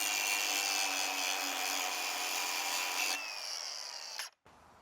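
A handheld angle grinder runs loud and steady for about three seconds, its high whine then dropping in pitch as it winds down before cutting off, with no talking.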